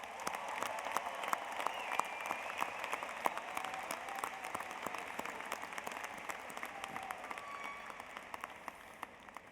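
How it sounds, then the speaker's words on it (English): Steady, even applause from a large audience at a university commencement ceremony, sustained clapping at moderate distance that slowly tapers off, with no talking over it. "Please join me in showing our appreciation with a round of applause for their efforts."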